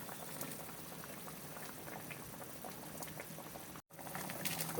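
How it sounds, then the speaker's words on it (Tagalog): Water boiling in a pot for sinigang sa miso with pink salmon, a continuous soft bubbling and fizzing, close and low in level, broken by a brief silent gap before the bubbling resumes a little louder. "Pakulan po muna natin yan sa tubig para pag kumukulo na po yan"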